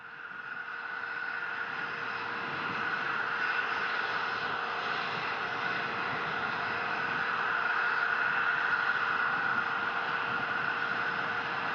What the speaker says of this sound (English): First stage engines are continuing to fire.